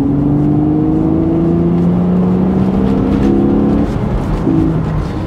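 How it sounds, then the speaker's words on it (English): A BMW Z4 3.0i with the M54 inline-six engine accelerates on a smooth road, its loud, steady engine note rising through the gears with a brief shift dip, heard continuously from inside. "fast, flowing, smooth roads where you can fully extract that inline six, the M54"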